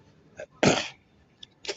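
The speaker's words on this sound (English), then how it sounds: "Sorry, cough there, something come up." A single sharp cough bursts out close by, with a couple of small breathy throat sounds around it.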